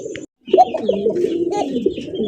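Pigeons coo softly and repeatedly in a low, rolling murmur, close by, with a faint higher chirp at the very start.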